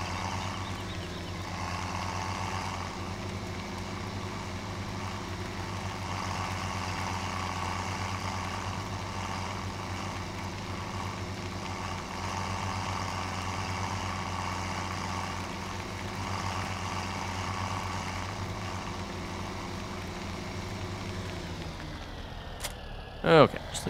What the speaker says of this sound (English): We got the John Deere tractor pulling the John Deere forage harvester